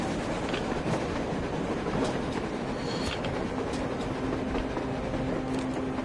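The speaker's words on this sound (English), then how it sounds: "A train! A damn train on the surface!" A train rolls past on the surface in the game Metro Exodus, a steady loud rumble of wagons with rhythmic clickety-clack wheel beats and a faint squealing tone, continuous throughout with no talk.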